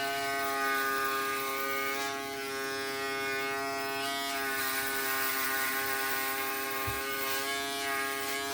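A Wahl compact electric foil shaver buzzes steadily close up as it moves side to side across the neck, its rich harmonic motor hum holding throughout with faint crackles of hairs being cut.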